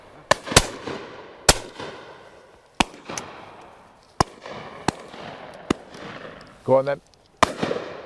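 Shotgun shots at a game shoot during tuition: several sharp, loud reports spaced irregularly across an open outdoor setting, some nearer and some farther, with people talking between them.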